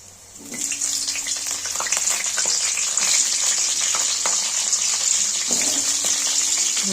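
Cauliflower and potatoes fry in hot oil tempered with cumin and green chilli, giving a loud, continuous sizzle with occasional scraping stirs and pops.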